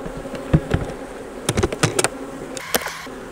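Honey bees buzz steadily and close by while a hive is opened for inspection in Western Oklahoma, with agitated insects darting past and a few sharper, louder passes near the listener.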